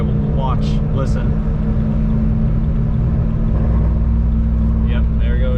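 Continuous low droning idle of a faulty BMW M3 car engine, steady and close, with brief bits of a person's voice over it near the start and end.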